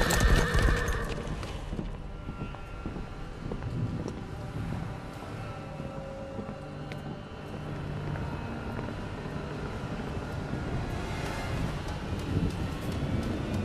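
Horse hooves clip-clop steadily at a ride in Mortal Kombat X, a continuous rhythmic trotting over a broad rumbling background with occasional faint whinnies.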